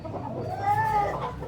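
A hen that has laid an egg gives a drawn-out clucking call, close and moderately loud over a steady background murmur.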